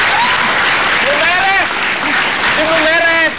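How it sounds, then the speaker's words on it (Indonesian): A studio audience applauds on a television talk show, a dense, continuous roar of clapping. Voices cheer and call out over it with rising, sing-song whoops. "Iya. Tepuk tangan dong."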